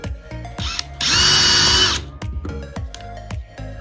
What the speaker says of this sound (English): I'm gonna drill some pilot holes